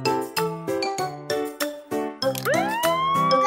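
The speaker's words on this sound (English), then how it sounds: "All police cars have sirens and lights." A cartoon police car siren sounds in bright bell-like tones, with a series of short chimes followed by a rising wail, all alone with no talk.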